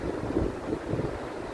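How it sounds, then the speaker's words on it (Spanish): Choppy sea waves roll and wash steadily under strong wind buffeting the microphone, a continuous rough roar with no talking. "Al mar no cojo porque está picado. Miren esas olas,"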